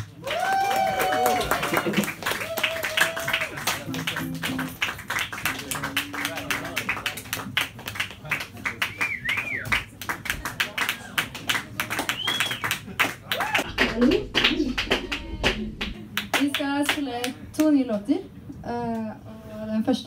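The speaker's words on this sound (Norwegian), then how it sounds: "Så da kan dere i salen bare klappe så lenge at de er helt klare." An audience in a concert hall claps in sharp, scattered bursts that come and go, mixed with shouts, whoops and a few singing voices, loud and close throughout.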